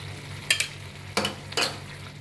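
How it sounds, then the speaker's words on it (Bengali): Spice mix and sour yogurt sautéing in a pan for a restaurant-style paneer dish, a low sizzle broken by three short bursts of spatula scraping and stirring. "টক দইটা দিয়ে একটু কষিয়ে নেব ভালো করে।"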